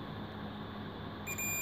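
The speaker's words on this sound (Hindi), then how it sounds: "तो देख सकते हो फ्रेंड एक साइड बीप आ रही है" A multimeter beeps during a continuity test on a phone capacitor: a steady electronic tone starts near the end over a constant low hum.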